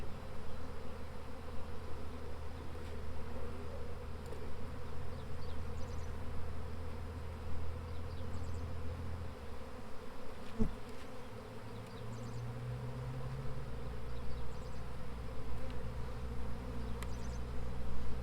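Honeybees swarming in a swarm trap make a steady, dense buzzing drone nearby, with the hum shifting in pitch as individual bees pass close.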